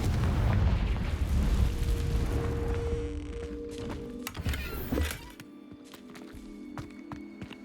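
A Confringo blasting curse in the Hogwarts Legacy game sets off loud, rumbling explosive booms up close, fading into a quieter stretch of small pops and scattered footsteps.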